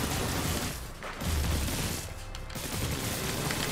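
Shooting in the video game inFamous: Second Son comes as a dense, noisy barrage of blasts and rumbling impacts, loud and continuous with short dips.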